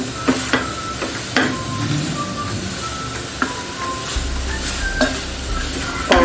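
Banana being stirred and mashed with a spatula while it sautés in a pan, a steady sizzle running under repeated scraping knocks and clatters of the utensil against the pan.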